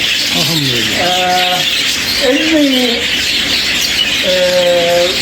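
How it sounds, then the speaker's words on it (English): Many budgerigars in an aviary squawk and chirp over a constant loud background hiss, with short calls scattered throughout and a few words spoken. "We keep many birds"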